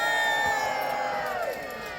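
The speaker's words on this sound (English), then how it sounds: "Will you cheer for the Templars? Or will you cheer for Lord Somerset?" A crowd of spectators cheers and shouts at a medieval pageant with a battle of champions, a loud burst of whoops and voices that fades back after about a second and a half.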